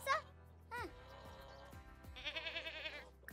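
A goat bleats in The Sims 4 video game, with short wavering cries at the start and again later, mixed with quiet background game music and chimes.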